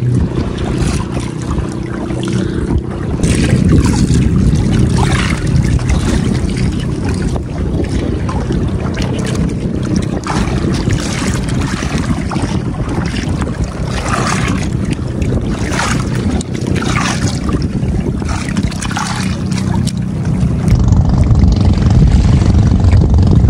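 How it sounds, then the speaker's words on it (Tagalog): A fishing boat engine drones loudly and continuously with rushing wind and water noise at sea, the roar swelling slightly toward the end as it draws near. "Meron pong papadating na bangka."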